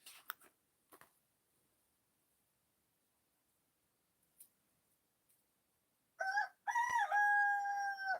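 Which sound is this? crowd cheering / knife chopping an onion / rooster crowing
rooster crowing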